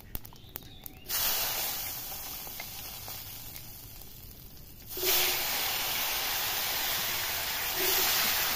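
Potatoes tipped into hot oil already holding dried red chilli, bay leaf and cumin, for a rui fish and drumstick curry: a loud, steady hissing sizzle that surges at about one second and again near five seconds, with no talk.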